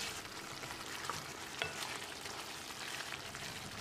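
Mushroom masala gravy simmering in a pan, stirred with a spoon, a steady sizzle and bubbling running throughout with a few faint scrapes of the utensil against the pan.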